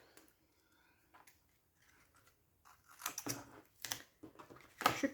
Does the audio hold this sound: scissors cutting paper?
yes